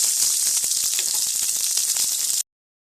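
Sliced onions fry in hot mustard oil in a wok, giving a loud, steady, close-up sizzle that runs unbroken for about two and a half seconds and then stops abruptly.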